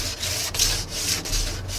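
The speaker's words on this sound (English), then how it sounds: "And I'll just give it a light sanding." Sandpaper lightly rubs back and forth over painted wood in a steady rhythm, about four strokes of close, raspy scratching.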